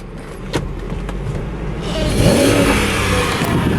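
A car at a wholesale dealer auto auction revs its engine with the check engine light on, the engine note rising steadily and staying loud and sustained near the rev limiter, with no talk.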